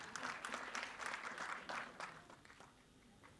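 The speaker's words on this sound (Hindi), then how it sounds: "जोरदार तालियां हो जाएं प्लीज" An audience at a Bollywood film trailer launch event claps in a fairly faint, even burst that tapers off toward the end.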